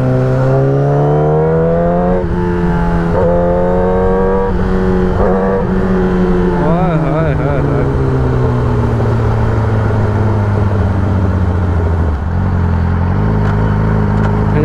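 A Yamaha R6 sport motorcycle cruises along, its engine note loud and close, rising and easing through gentle throttle changes with a couple of gear shifts.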